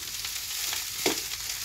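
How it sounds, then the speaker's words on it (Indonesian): Nasi goreng (fried rice) is stir-fried in a pan, giving a faint, steady sizzling hiss with a brief scraping stir of the spatula near the middle. "Tutorial mak goreng nasi."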